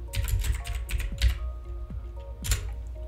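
Computer keyboard typing while a book cover is designed in Canva, with a run of irregular clicks and clacks and a few louder key strikes, close and fairly quiet, no talk.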